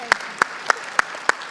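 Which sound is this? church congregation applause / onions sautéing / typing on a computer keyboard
church congregation applause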